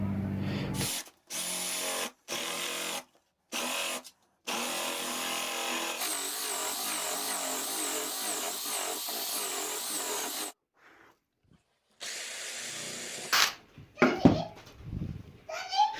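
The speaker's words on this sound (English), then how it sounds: "you are going to need something like this, a Forstner bit or a spade bit, to cut out your two holes" A power drill fitted with a Forstner bit bores holes in scrap wood for a push block: several short whirring bursts, then a long steady grinding run, followed by quiet and a few close handling knocks.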